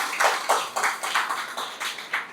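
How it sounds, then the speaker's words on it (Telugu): Sparse, rhythmic hand claps at a Women's Day event for a women entrepreneurs training program. The claps come at a steady, moderate pace, about two per second, close and moderately loud, like a few people clapping together in a hall. "అందరు క్లాప్ చేయండి"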